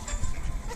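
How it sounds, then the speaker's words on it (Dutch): A goat bleats close by at a farm, one brief bleat over low rumbling background noise. "Dit is een geit."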